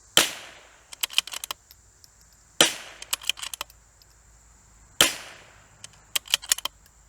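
A CZ 457 .22 long rifle in a Vision Gen 2 chassis fires at a steel plate 167 yards away. Three sharp, evenly spaced shots each trail off into a cluster of quieter mechanical clicks.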